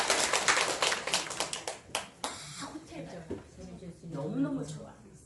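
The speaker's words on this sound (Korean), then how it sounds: "이럴 때 박수 쳐야지." An audience at a corporate morning assembly breaks into brisk applause for about two seconds, then a voice takes over.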